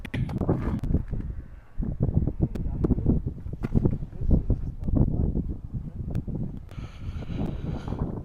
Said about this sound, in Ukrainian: У нас другий день вітер такий, що я не знаю, як зробити огляд